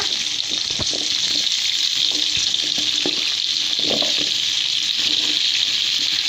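Cauliflower and potato pieces fry in hot oil with a steady, dense sizzle throughout, broken by a few soft knocks and clinks of a utensil in the pan; no one talks.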